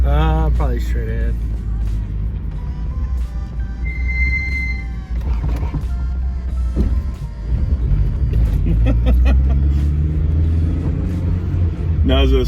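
A turbocharged 1987 Acura Integra with a heavy-duty street race clutch pulls away from a parking lot, a low engine rumble that rises and falls, with people talking throughout.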